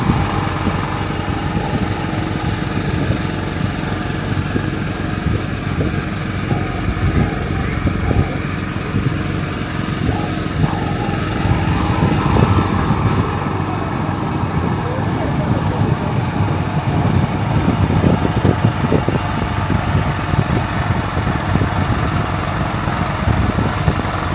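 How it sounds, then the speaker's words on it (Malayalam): A boat engine drones steadily on a night ride in Qatar, a loud continuous mid-pitched hum with water rush beneath, while voices talk over it now and then. "ബോട്ട് നൈസായിട്ട് എടുത്തിട്ടുണ്ട്."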